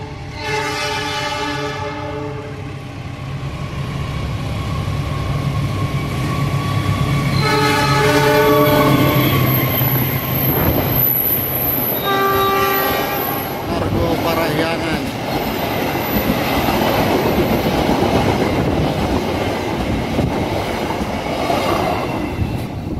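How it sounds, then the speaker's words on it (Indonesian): Two trains cross on a bridge near Bekasi station, loud and close: horn blasts sound over a continuous rumble of wheels and rail clatter, with a high squeal midway. "Ini akan bersilang dua kereta yang akan masuk ke stasiun Bekasi."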